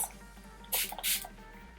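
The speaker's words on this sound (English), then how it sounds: "spray it with Fix Plus" Two quick hissing spritzes of makeup setting spray from a spray bottle, close and fairly soft, over a quiet room hum.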